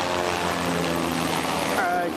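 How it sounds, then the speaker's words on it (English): A steady helicopter rotor thrum drones throughout, loud and continuous, as the aircraft passes overhead on a farm. "that was a helicopter"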